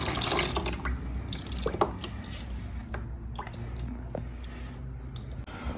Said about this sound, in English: it's coolant in here. We're just gonna drain it out.